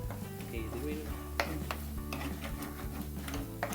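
Sardine curry bubbles and sizzles in a pan on a Kerala-style stove, a dense steady crackle with small pops and an occasional clink of a utensil, close and moderately quiet, with faint voices in the background.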